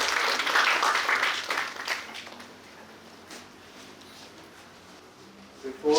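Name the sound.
audience applause for a speaker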